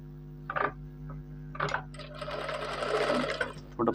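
A sewing machine stitching a shirt in a tailor's shop runs in short bursts with pauses, then in one longer stretch of steady mechanical whirring and ticking.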